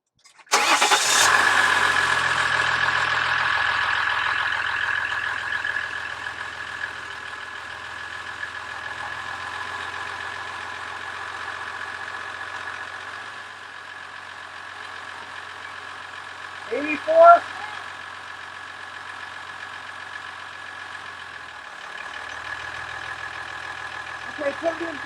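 A 2014 Ram 1500 pickup truck engine cranks and catches with a loud start, then settles into a steady idle hum for the rest of the clip, with a couple of brief squeaks and clicks later on.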